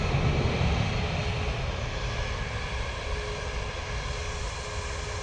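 A TUI airliner's engines give a steady, sustained roar at moderate distance, a broad even rumble holding at constant loudness throughout with no voices.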